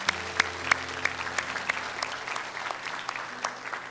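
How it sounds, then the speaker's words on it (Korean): A Korean church congregation applauds during a Sunday worship service, a steady patter of many hands with distinct individual claps standing out, over a low sustained tonal hum. "하나님께 감사의 박수 올리겠습니다"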